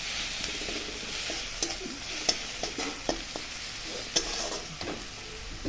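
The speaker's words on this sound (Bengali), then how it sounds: "রসুনটা একটু কষিয়ে নেব ওর সঙ্গে।" Crushed garlic fries in a pan with a soft, constant sizzle, broken by a series of brief scraping stirs of the spoon against the pan.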